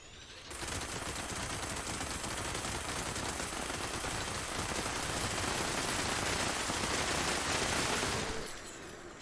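Sustained automatic gunfire in Fallout 76 rattles on continuously and loudly for about eight seconds, a dense unbroken burst that starts and stops abruptly, with no talking over it.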